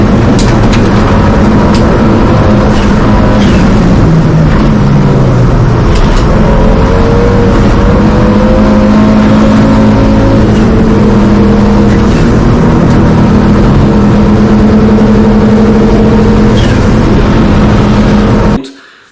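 A 1000 bhp five-cylinder car engine roars at full throttle just before a head gasket failure, a loud, sustained drone with shifting pitch that stays close and continuous before cutting off abruptly.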